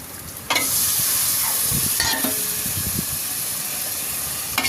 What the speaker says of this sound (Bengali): মাংসটা ভালোভাবে নাড়াচাড়া দিয়ে যাতে ভিতরে মশলাটা ঢুকে, মশলাটা ভালো ঢোকানোর জন্য ভালোভাবে নাড়াচাড়া দিব।